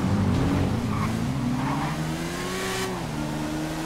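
A superbike engine, a BMW S1000RR-type motorcycle in a GTA 5 roleplay race, revs up hard and holds a loud, rising whine through the run, with tire noise and no talk.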